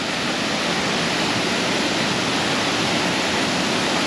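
A loud, constant roar of rushing water pours without a break, broad and close like standing beside a waterfall, at Thommankuthu waterfalls in Thodupuzha, Kerala.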